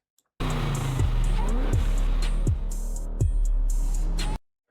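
A supercharged Chevrolet Monte Carlo SS engine revving hard, loud and close, with several rising pulls, each followed by a sharp drop between bursts and a supercharger whine over a deep, steady rumble.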